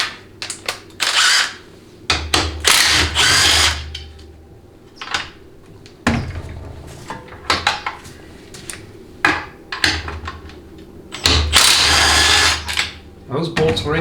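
Power drill or impact tool running in several loud bursts as tight bolts come out of a 700R4 automatic transmission during a teardown, with short pauses and tool clatter between, and someone talking intermittently over the work.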